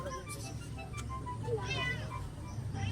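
Stray cats meow while being fed fish outdoors, with a few faint, short meows and a quiet voice speaking nearby over low background noise.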